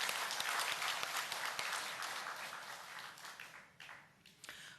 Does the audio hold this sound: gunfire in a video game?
no